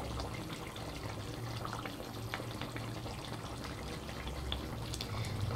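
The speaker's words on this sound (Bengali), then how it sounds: "তো ঝোলটা ভালোভাবে ফুটে গেছে, আর বেশ কয়েক মিনিট ধরেই ফুটেছে।" Steady bubbling simmer of a Bengali-style rohu fish curry boiling in a pan, a continuous close hiss and crackle with no talk.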